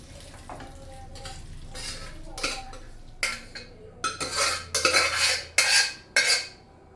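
Cooked green gram (hesaru kaalu) is tipped into a pan for a North Karnataka style palya and stirred with a spoon, giving repeated close metal scrapes and clinks that grow louder and denser toward the end, with no talking.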